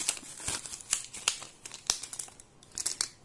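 Plastic packaging crinkling and tearing as unicorn-shaped correction tapes are unwrapped, a close series of sharp rustles, crackles and snaps in irregular bursts, with no talking.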